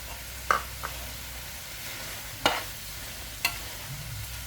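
Catfish curry with basil leaves stirred in a pan, a few distinct scraping stirs against a soft sizzling bed, close and alone without talk.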